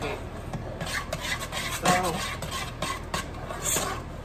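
A spoon stirring mac and cheese in a pot, giving soft continuous scraping and gloopy rubbing with occasional clinks, fairly quiet, while a voice briefly speaks.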